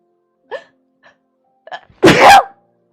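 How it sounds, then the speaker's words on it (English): A single loud, close sneeze bursts out after a few faint breathy sounds. "I sneezed a little."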